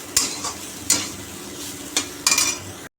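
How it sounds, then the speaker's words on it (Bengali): Neem leaves and pointed gourd being stirred in a frying pan, with four distinct scraping strokes spaced across a steady low sizzle, fairly close and with no talk. "দেখো বন্ধুরা আমার ভাজা হয়ে গেল দেখেছো একদম মচমচে হয়ে গেছে"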